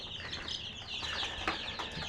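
A young chicken with a cold clucks and chirps softly while being held in someone's hands, with scattered brief calls and light rustling and no talk.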